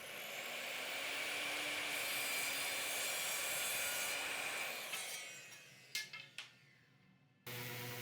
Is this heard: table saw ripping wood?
yes